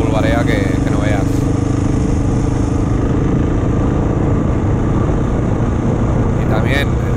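Husqvarna 701 enduro motorcycles ride off-road on dry, dusty trails near Montserrat, producing a loud, steady engine drone throughout with a constant rumbling roar and wind buffeting.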